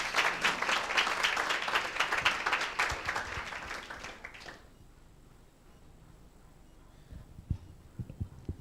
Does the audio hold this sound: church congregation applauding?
yes